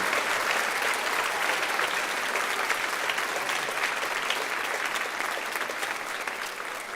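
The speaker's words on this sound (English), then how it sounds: "let's give a round of applause to our teachers and administration and our school board" A school concert audience applauds teachers, administration and the school board with loud, dense, continuous clapping that holds steady, then eases slightly toward the end.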